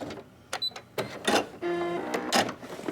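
A sewing machine stitching wire into a fabric face mask, with short bursts of rapid mechanical whirring and clicking, several start-stop runs, close and fairly loud.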